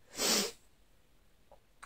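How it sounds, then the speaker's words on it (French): One sharp, breathy nasal burst near the start, a loud sniff or snort, followed by near silence and a faint click. "je suis désolée, je renifle"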